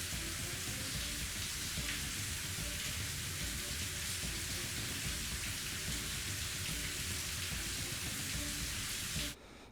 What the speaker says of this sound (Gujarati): સિંહોર અને આજુબાજુના વિસ્તારમાં પવન સાથે વરસાદ શરૂ થયો હતો